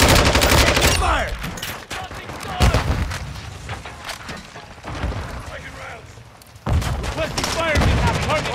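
Dense gunfire from Call of Duty: Modern Warfare II: bursts of automatic weapons and booming explosions come loud and close, nearly continuous with brief lulls, while voices shout over the battle.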